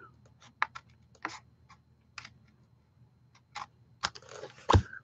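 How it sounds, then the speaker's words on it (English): Stampin' Up! Snips trimming excess paper during a craft project, a handful of small, sharp clicks spaced irregularly over quiet, ending in a louder cluster of snips near the close. "I'll use my Stampin' Up! Snips and just cut that off"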